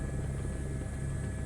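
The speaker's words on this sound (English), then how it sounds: "maneuver the helicopter over the helipad" Helicopter in Microsoft Flight Simulator 2024, hovering toward a helipad, gives a steady droning rotor and engine whir with a constant tonal whine, even and unbroken throughout with no talking.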